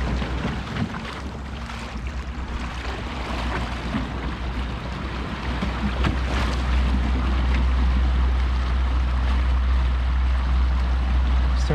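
Motorguide Xi3 trolling motor at full speed pushing a Hobie PA 12 kayak through water, a steady low hum with water rushing and splashing along the hull, growing slightly louder, no talk.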